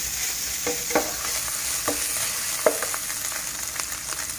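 Mushrooms frying in a pan for a stir-fry with minced pork, giving a steady close sizzle with a few soft scrapes and taps of the spatula spread through it.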